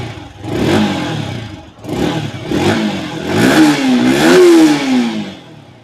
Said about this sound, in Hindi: बाइक को स्टार्ट कर लेते हैं और आवाज़ सुनते हैं।